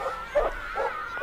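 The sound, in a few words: dog barking in recording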